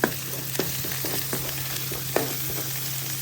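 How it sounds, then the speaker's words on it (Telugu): A pan of turmeric and finely chopped coriander fries with a steady, close sizzle, broken by a few sharp scraping clicks as it is stirred. "కొత్తిమీరని వేసుకొని బాగా కలుపుకొని ఫ్రై చేసుకోవాలి."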